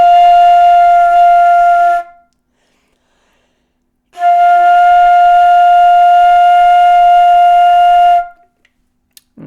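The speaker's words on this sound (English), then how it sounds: "when you push all those notes down and play your flute tone, it should sound like this." A flute holds a steady note with three fingers pressed down, sounding twice as long sustained tones of about two seconds and four seconds separated by a short silence, clear and close with no talking.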